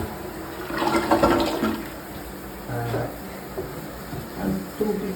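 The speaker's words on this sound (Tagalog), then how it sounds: "Ito ang bagong install na toilet." A newly installed low-water toilet flushes with a rushing swirl of water, followed by gurgling and refill sounds in uneven surges, fairly close, with a voice faintly present alongside.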